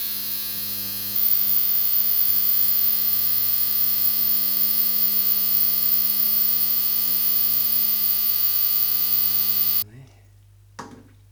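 A cheap eBay ultrasonic cleaner runs with a loud, steady electric hum that starts after a second and holds evenly, then cuts off abruptly near the end, followed by a brief clatter.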